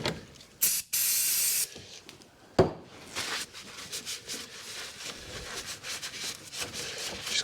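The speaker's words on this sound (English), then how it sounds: "I've got some brake cleaner here, which is a brilliant degreaser" Aerosol brake cleaner sprayed as a degreaser on the engine of a 2014 Ford Transit Connect 1.6 TDCi diesel: a short hissing burst, then a longer steady spray. Fainter rubbing and wiping sounds follow, with no speech.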